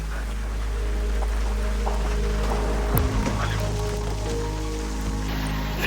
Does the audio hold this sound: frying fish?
no